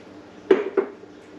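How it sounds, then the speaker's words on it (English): Sourdough starter is scooped into a bowl on a scale, heard as two close, distinct clinks of a utensil knocking against the bowl about a quarter second apart against quiet room tone. "we're going to measure out 100 grams of sourdough starter."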